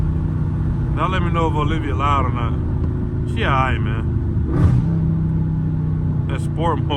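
A Dodge Scat Pack running in sport mode at night gives a steady loud engine rumble with a brief rev, as someone talks over it throughout.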